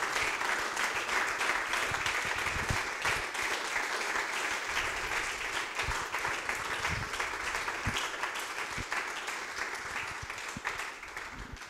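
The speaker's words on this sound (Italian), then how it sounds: "Io farei un altro applauso e qualche secondo di silenzio in ricordo di Saverio" Sustained audience applause at a wedding film festival awards ceremony, a dense, steady wash of many hands clapping in a hall, held at an even level for about twelve seconds with a slight fade near the end.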